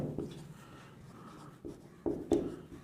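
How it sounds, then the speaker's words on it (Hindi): Faint, scratchy strokes of writing on a classroom board during a geography lesson, coming in short bursts with brief pauses and a few firmer taps. "पहले क्वेश्चन लिख देता हूं फिर आंसर लिखेंगे इसका"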